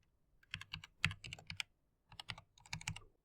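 Fingers type on a computer keyboard in two quick bursts of clicky keystrokes with a short pause between them, near and fairly quiet, with no voices.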